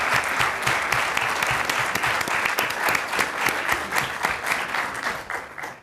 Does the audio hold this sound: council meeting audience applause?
yes